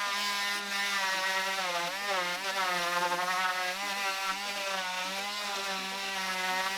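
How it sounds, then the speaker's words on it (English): Electric hand sander smoothing and rounding over a small lip on a wooden edge, a steady loud whine with a continuous buzzing motor tone that wavers slightly in pitch as it works, running alone for the whole stretch. "So now I'll just use the hand sander here."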